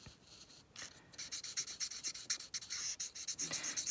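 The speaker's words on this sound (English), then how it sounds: "So I'm just going to go around and color all of these images here." Markers scratch and rub across paper as images are colored in, a close series of quick rhythmic strokes with short pauses between, no voices.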